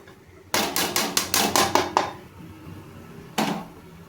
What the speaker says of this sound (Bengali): এবার আমি চাউমিনটা দিয়ে ভালোভাবে নাড়িয়ে নেব।